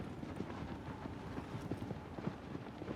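A horse gallops in Shadow of the Colossus, its hooves drumming a steady, rapid clip-clop rhythm throughout, with no voices over it.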